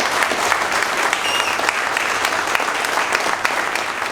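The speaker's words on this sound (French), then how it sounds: "je vous demande un tonnerre d'applaudissements" A large audience claps continuously, a dense, even roar of applause that holds steady throughout.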